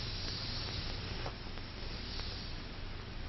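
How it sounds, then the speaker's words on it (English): A steady, close hiss of condensed milk sprayed onto a car's surface, continuous and even for a few seconds with no talking over it. "Hey, Sonny, what's that stuff you're spraying on the car?"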